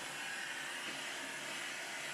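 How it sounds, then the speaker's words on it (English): A Henry vacuum cleaner with a turbo boost switch sucks swarf and chippings from a Warco lathe's chip tray and bench, making a steady, loud, unbroken whooshing roar throughout. "I'm using my vacuum cleaner to vacuum up all of the swarf and chippings from the chip tray"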